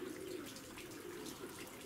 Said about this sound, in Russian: Со стороны приходят голуби.